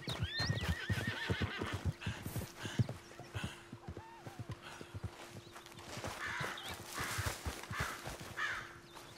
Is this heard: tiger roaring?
no